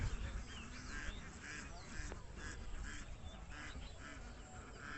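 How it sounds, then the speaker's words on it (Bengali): Many ducks kept at a homestead quack in a faint, distant chorus of repeated nasal calls over a rough, windy outdoor background. "ওই বাসাতে মূলত অনেকগুলো হাঁস লালন পালন করে"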